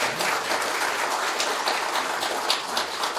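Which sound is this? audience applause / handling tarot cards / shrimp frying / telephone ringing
audience applause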